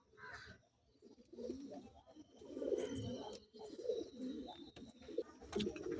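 Pigeons coo in a loft where a small chick is kept, giving soft, repeated throaty coos close by, with rustling and occasional chirps between them.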